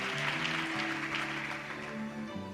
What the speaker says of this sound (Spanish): la palabra de Dios la vamos a recibir con un aplauso glorioso